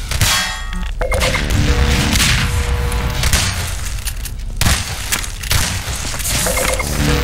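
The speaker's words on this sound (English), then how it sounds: "Rocket." A rocket (RPG) explosion in the Half-Life 2 Deathmatch video game, a loud booming blast amid repeated metallic clangs and crashes of close-range combat, dense and continuous with no talk.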